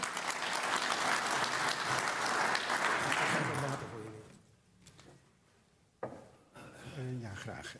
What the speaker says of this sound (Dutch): Hartelijk applaus voor Roeland van Geuns